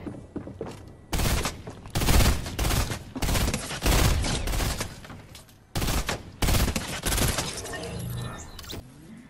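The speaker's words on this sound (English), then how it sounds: "And I think those were gunshots." Rapid bursts of gunfire crack repeatedly in close, loud volleys in Fortnite, with short pauses between clusters of shots.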